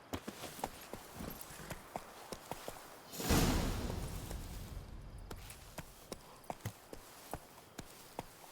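Horse hooves clip-clopping in the video game The Witcher 3, a steady run of crisp, evenly paced hoof strikes with a loud whooshing rush in the middle before the trotting rhythm carries on.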